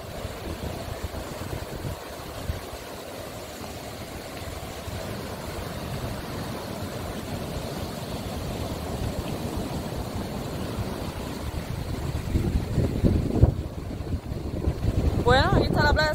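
Surf breaking on a beach in Cuba makes a steady, moderately loud wash, with wind rumbling over the microphone and a swell of turbulence near the end.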